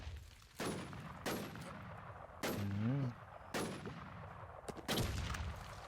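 Gunfire in a shooter video game: loud, separate heavy shots or short bursts about every second, each ringing out briefly, with a short voice-like sound partway through.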